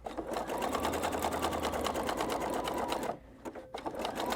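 A sewing machine runs steadily up close while stitching a strip skirt, its rapid needle rhythm continuous for about three seconds before slowing into a few short, stuttering bursts.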